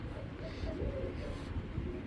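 Racer pigeons give soft, low cooing close by, a murmuring burble that carries on through the short stretch with no clear talk over it.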